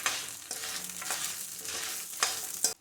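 Around seven dry red chillies frying in a pan for mutton kulambu, a bright, continuous close sizzle with a few spatula scrapes and no voices.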